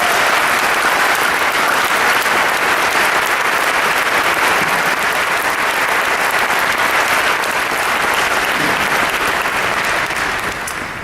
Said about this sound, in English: I think all of them deserve a really rounding of applause right now.